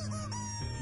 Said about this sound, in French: C'est un petit poulet en plastique, ça, sur lequel on appuie.